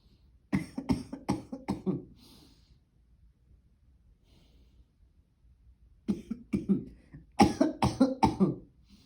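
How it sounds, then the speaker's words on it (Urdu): A COVID patient lying face down in the prone position coughs in two clusters of rapid, close coughs separated by a few seconds of quiet breathing. "اور پھر کھانسی."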